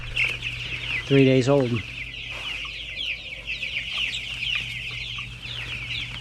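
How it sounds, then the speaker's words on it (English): Two-week-old farm birds in a brooder make a loud, brief rising call, followed by constant soft high peeping and a steady background hum, with a voice speaking briefly. "So these birds are 2 weeks,"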